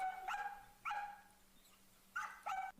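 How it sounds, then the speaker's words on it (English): A Samoyed, a herding breed, barks in short pairs of sharp, close yips, two double barks with a pause between them, fairly loud against a quiet background. "The excessive barking is a regular trait of any herding breed."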